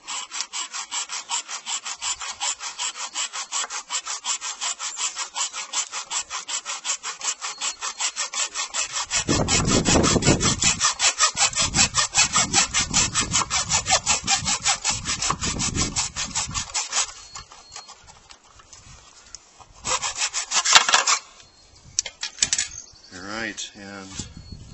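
Hand saw cutting through wood for a marshmallow gun barrel, with steady rhythmic back-and-forth strokes that grow heavier midway before slowing to a few final rasping passes.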